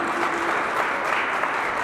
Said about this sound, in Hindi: तालियों से मैम का स्वागत कीजिए